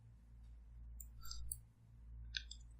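Faint, sharp computer mouse clicks on an OK button on a web form, a few quick separate ticks against a low steady hum with no talk.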